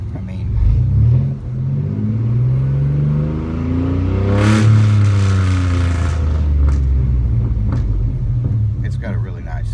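A 1998 Chevrolet C1500 pickup's 4.3-litre V6 engine with a Flowmaster Super 10 exhaust rumbles with a deep exhaust note, revving up and settling back, with someone talking over it.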